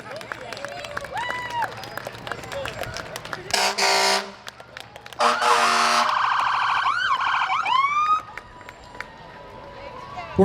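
Fire engine sirens and air horns blaring at a Summerfest parade, with wailing sirens, short horn blasts and two long loud honks between them, close and loud over crowd noise.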